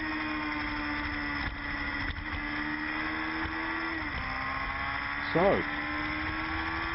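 Amateur GTO race cars at a 2013 Round 1 event drone steadily past on track, a continuous engine hum with a brief rising pass near the end, a voice speaking over it.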